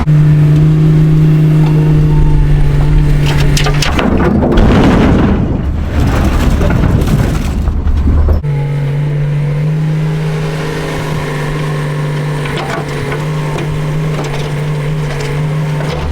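Boulders dropped into the bed of an old end dump truck, a heavy crashing, rumbling clatter of rock on steel lasting several seconds, loud and close, framed by the steady drone of an idling diesel machine.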